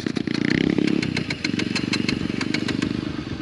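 A motorcycle engine cranks and catches, then settles into a rough, pulsing idle with regular sharp firing beats, loud and close with no talk.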